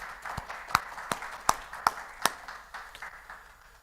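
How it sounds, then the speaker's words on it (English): Sparse applause at a council meeting for a councillor, a handful of separate sharp claps in a slow uneven rhythm, fairly faint and thin in a quiet room, with no talking. "Round of applause for Councillor Stockman."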